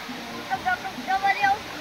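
Cold water rushes steadily where a child is bathing, a continuous close splashing roar with a voice talking over it.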